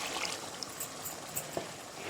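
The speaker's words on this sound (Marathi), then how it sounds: "थोडं पाणी ॲड करत आहे" Water is poured into mutton cooking in a pot over a wood-fired stove, making a continuous close trickling and splashing sound that runs through the whole short stretch.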